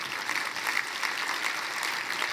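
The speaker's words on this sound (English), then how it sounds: "I want you guys to give yourselves a round of applause" Applause from a conference audience, a steady dense wash of many hands clapping at once, loud and even throughout with no individual claps standing out.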